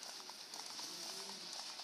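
Clip-clop hoofbeats from a galloping horse in the video game Warriors Orochi, a quick, steady run of hoof strikes under soft, faint background sound effects, with no talk.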